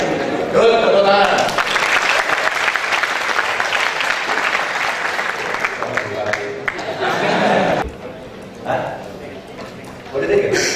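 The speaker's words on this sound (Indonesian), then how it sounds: "Tepuk tangan." Student audience at a high school in Magelang applauds during a governor's class, loud, dense clapping that runs for several seconds and then tapers off, with talk and crowd chatter mixed in.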